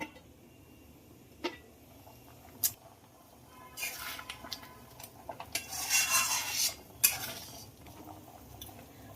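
Paneer, raisins and cashews being stirred into milk in a pot, with scattered spoon clinks and knocks, then a burst of wet scraping and clattering toward the middle, close and unaccompanied by speech.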